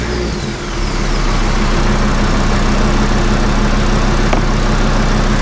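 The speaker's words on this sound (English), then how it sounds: "then we can start the car" Porsche 944 fitted with a swapped five-cylinder engine turns over and settles into a steady, loud idle, its low rumble droning evenly close by with no talking.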